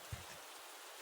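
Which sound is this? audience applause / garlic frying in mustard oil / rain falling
rain falling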